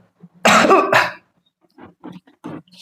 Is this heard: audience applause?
no